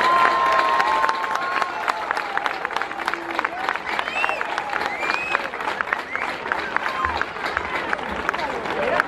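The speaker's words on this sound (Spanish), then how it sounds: "Un fuerte aplauso" A large outdoor crowd applauds and cheers during the opening proclamation of the Xiringüelu festival, with sustained clapping, scattered shouts and whistles, and voices murmuring underneath.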